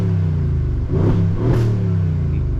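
A Mercedes-AMG GLE 63 S SUV engine, rated 800 horsepower, idles close up, then revs sharply twice in quick succession, each burst rising and falling back to a steady idle.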